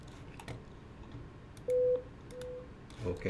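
A test call is placed on a contact center phone system, producing a short steady dial tone followed by a fainter tone, heard close over low background noise and light speech.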